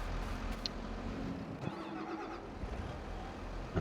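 A tractor engine in Farming Simulator 22 runs with a steady low drone, faint and constant, with a few small clicks and no talk.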